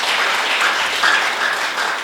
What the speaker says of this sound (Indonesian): Tepuk tangan dong buat Tuhan kita yang luar biasa